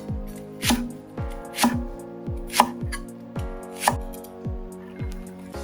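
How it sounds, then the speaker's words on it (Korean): A knife chops onion and green onion on a cutting board for a Korean rosé tteokbokki, about seven crisp, evenly spaced chops at a steady rhythm, close and clear with no talk. "양파는 잘게 썰어 준비하고 대파는 두 가지 방법, 잘게 썰기와 짤막하게 편썰기로 준비합니다"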